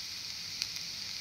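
Mattikaya tempering sizzles on high flame after chilli powder goes in, a faint, even frying hiss with a couple of soft stirring ticks, no voices.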